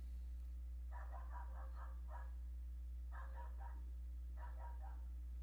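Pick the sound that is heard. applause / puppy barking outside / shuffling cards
puppy barking outside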